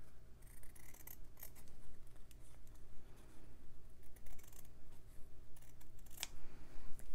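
Scissors cut through fabric to shape a Christmas tree for hand stitching, giving a steady run of soft snips and crisp blade closes, close and fairly quiet against a low background hum, with one sharper click near the end.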